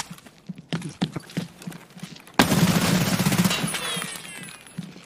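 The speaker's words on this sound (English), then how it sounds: "Why are you shooting me?" Gunfire in a video game firefight: a few sharp, scattered shots and clicks, then a sudden loud burst of rapid automatic fire that rattles on and slowly fades.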